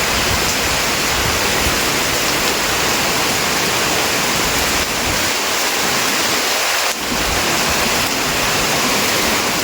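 Heavy rain pours at night in a dense, loud, unbroken hiss, with a brief dip in the low rumble midway before the full downpour returns, and no voices.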